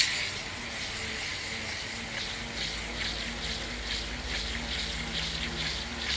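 A water jet sprays onto a small turbine driving a NEMA 17 stepper motor as a simple homemade generator, a steady hissing gush with a low hum growing underneath partway through.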